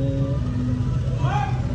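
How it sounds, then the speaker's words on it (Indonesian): A motor truck turns around on a narrow village road, its engine running low and steady. A person talks over it, with a short rising tone near the end. "Dan ini ada motor truk terjebak ya lor ya,"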